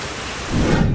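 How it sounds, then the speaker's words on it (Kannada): Heavy rain roars steadily, swelling with a deep rumble of thunder toward the end. "ಈಗ ಸಡನ್ನಾಗಿ ಎಷ್ಟು ಜೋರು ಮಳೆ ಆಗ್ತೈತೆ ನೋಡಿ"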